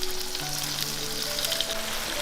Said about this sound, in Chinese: 煎到金黄就把酱汁淋进来，